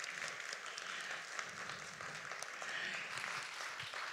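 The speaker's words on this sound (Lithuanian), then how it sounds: "Plojimai." An audience at a televised dance competition round claps continuously in steady, fairly faint applause with no clear voices.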